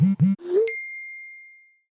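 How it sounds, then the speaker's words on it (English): A bright notification ding used as an audio sting, following two short vocal bursts and a rising tone, with a single clear chime ringing out and fading over about a second. "Can we get an audio sting and then words, text on screen that says bloop."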